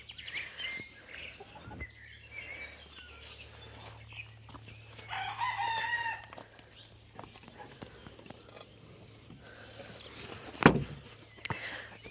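Bourbonnaise hens and a rooster in a farm run, with scattered clucks and a brief crow rising midway, plus a sharp call near the end, heard at moderate distance over low background hum.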